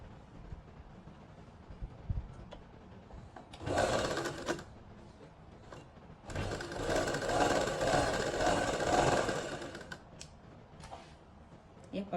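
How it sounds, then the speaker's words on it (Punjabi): A sewing machine stitches the side seams of palazzo trousers. There is a short whirring run, then a longer steady burst of rapid stitching lasting several seconds, with quiet handling noises in between. "ਪਹਿਲਾਂ ਆਪਾਂ ਸਾਈਡਾਂ ਵਾਲੀਆਂ ਸਿਲਾਈਆਂ ਲਾ ਕੇ"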